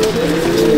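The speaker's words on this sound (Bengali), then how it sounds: "এটা হচ্ছে মেন ব্রিডার পায়রা" Cooing from a male breeder pigeon in a loft, a steady low murmuring coo close by and continuous through the short moment, with no talk.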